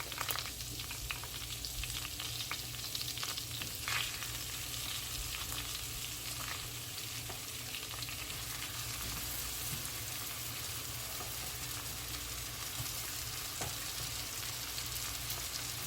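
Cajun shrimp sizzle steadily as they fry in a hot pan, a dense, continuous crackle with faint scraping of stirring, no voices, holding evenly throughout.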